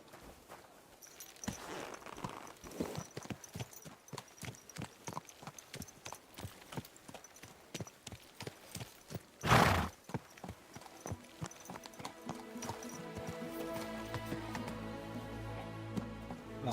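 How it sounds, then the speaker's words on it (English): A horse's hooves clip-clop steadily on a town street in the video game Kingdom Come: Deliverance 2, crisp repeated hoofbeats at a walking rhythm, close and clear, with a brief louder rustle midway and a sustained tone rising near the end. "What a beautiful horse."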